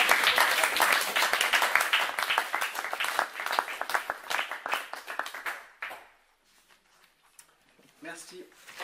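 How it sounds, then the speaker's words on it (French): Applause at a municipal council meeting in Thizy-les-Bourgs, a dense burst of many hands clapping from the room that rings steadily for about six seconds, then stops, leaving a quiet hall with a few faint sounds. "donc si vous voulez applaudir,"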